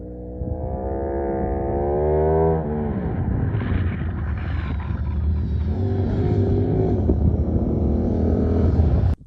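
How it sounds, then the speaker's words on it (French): A motorcycle engine revs and drones steadily while the rider slides the bike and straightens it through a turn, its pitch rising at first then holding a loud, close growl before cutting off at the end. "Alors je vais me faire un petit S, je vais redresser ma moto, prendre mon virage."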